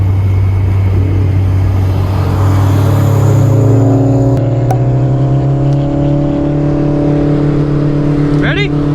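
Honda race car, a 9th Gen Civic Si or AP1 S2000, holds a loud steady engine drone with rising harmonics as it accelerates, a brief shift break midway and a rising whine near the end, with voices under it.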